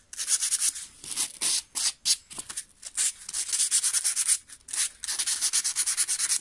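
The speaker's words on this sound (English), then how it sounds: "if you've got any little burrs left, you can just run a bit of sandpaper" Sandpaper rubs back and forth along a hedge trimmer blade to take off burrs, giving a close, steady series of scratchy strokes with short pauses between them.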